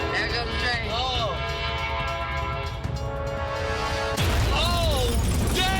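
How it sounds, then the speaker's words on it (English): A loud train horn sounds continuously as a train roars past nearby, the blast surging louder near the end while people shout over it. "There goes the train."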